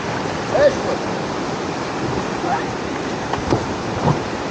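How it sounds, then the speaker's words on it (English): Whitewater pours over rocks in a Class IV river gorge, making a loud, continuous rushing roar with a few brief surges, close by and without talk. "You can see these rocks that have the water just pouring over the top."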